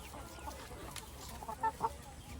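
Backyard chickens, including an Indian crossbreed hen, cluck in two short, moderately close bursts over a quiet, low farmyard background, with no talk.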